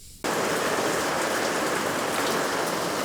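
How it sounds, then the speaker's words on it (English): A heavy rainstorm pours down just outside a small garage, kicking in abruptly as a loud, dense, steady hiss that continues without letup. "just have a look at this for a heavy rainstorm"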